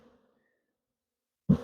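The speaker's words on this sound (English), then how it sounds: "I just shook those bees up. They are not happy with me." Honey bees shaken off a hive frame burst into a loud, close, agitated buzz after a long stretch of near silence, the hum swelling suddenly and continuing steadily to the end.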